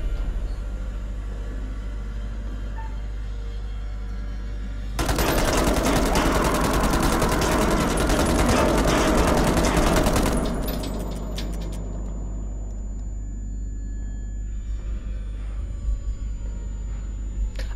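Sustained automatic gunfire in the game Man of Medan, a loud, dense burst lasting about five seconds, then fading into scattered faint clicks against a low hum.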